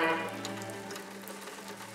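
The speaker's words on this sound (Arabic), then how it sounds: "كان صوت قطرات المطر التي تضرب القضبان مسموعاً بقوة" Raindrops strike metal window bars, a soft, even patter with faint scattered ticks over a low tonal drone, heard alone without speech.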